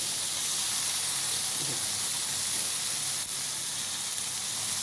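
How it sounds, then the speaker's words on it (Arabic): Okra sizzling in a hot pan for Egyptian-style bamia, a steady loud hiss and crackle of frying that holds evenly throughout with no talk. "شوحي فيها بقى لما تسمعي الطشطشه بتاع ايه بتاع الباميه"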